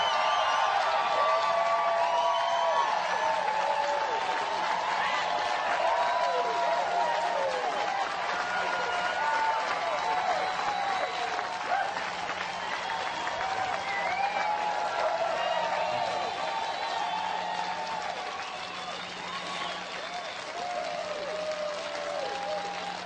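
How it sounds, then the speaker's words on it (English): Live motivational-seminar audience giving sustained applause, a dense wash of many hands clapping with scattered cheers that stays loud and gradually thins toward the end. "Give yourselves a round of applause."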